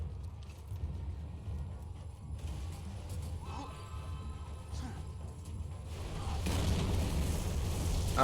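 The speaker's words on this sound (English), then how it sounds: "Oh god, the loud explosions are back." Loud explosions in a video game rumble in the background as a continuous low roar with creaking, mechanical clatter on top, swelling louder toward the end.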